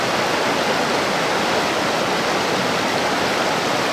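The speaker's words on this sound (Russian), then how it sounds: "А с этой стороны бежит речка Кала" Steady rushing water of the Kalar river, a continuous broadband roar like a fast river or stream, loud and unbroken throughout.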